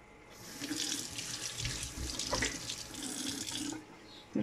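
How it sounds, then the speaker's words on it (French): Kitchen faucet running into a sink while a hand is rinsed under it, a steady close splashing rush for about four seconds with slight shifts as the hand moves, then it cuts off. "je vais juste me rincer un peu la main"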